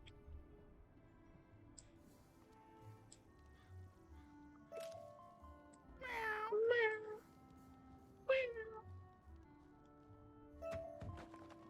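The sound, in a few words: cat meowing in video game Wizard101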